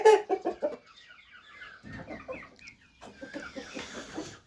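A rooster and hens cluck close by in a farmyard: a quick run of clucks at first, then quieter scattered clucking and brief chirps after a short lull.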